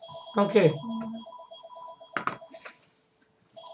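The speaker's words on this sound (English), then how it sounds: "apologies for the phone ringing, folks" A telephone rings in repeated short electronic trills through a room, a voice briefly speaking over the first bursts before the ringing carries on alone and then cuts off into near silence.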